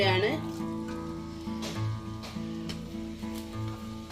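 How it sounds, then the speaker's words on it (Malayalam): Sliced onions fry in leftover ghee topped up with oil for a biryani, giving a steady close sizzle throughout with a faint voice under it. "ബാക്കി വന്ന നെയ്യിലോട്ട് കുറച്ചും കൂടി ഓയിൽ ഒഴിച്ചിട്ട് ഉള്ളി വറുത്ത് കോരുകയാണ്"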